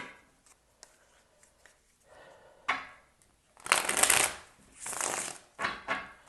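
Tarot cards being shuffled by hand in bursts of dry papery riffling, one longer rush followed by a couple of shorter ones, close and fairly quiet after a nearly silent start.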